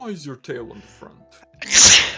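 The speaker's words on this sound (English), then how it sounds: "Bless you. I had to sneeze." A single loud, sharp sneeze bursts out close to the microphone right after a short spoken line.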